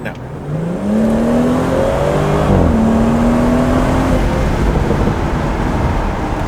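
BMW 440i with a B58 engine and muffler delete, accelerating at full throttle in sport mode: a loud rising exhaust roar that climbs through the revs, dips briefly at a shift, then pulls upward again, close and dominant.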